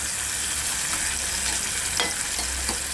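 Onion and tomato fry in a pan for a mixed Bombil, cauliflower and potato dish, giving off a steady broadband sizzle with a few faint stirring scrapes and no talk.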